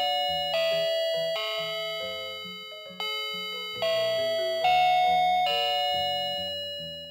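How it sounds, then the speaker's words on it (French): A chiming doorbell rings at a house door, its bright tones stepping through a descending melodic sequence with a sustained, ringing decay and nothing else audible. "il entend quelqu'un sonner à sa porte"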